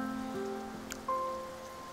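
Soft, steady patter of rain falls in the game Genshin Impact, quiet and even throughout, with faint tonal game music tones drifting over it and no voices.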